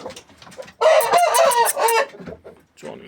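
A rooster gives one loud, close crow lasting about a second, surrounded by softer clucks and low calls before and after.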